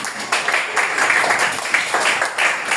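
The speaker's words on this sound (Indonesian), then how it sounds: "beri tepuk tangan kepada siapa?" A classroom group applauding, brisk hand clapping from several people close by, steady and moderately loud for a few seconds with no talk over it.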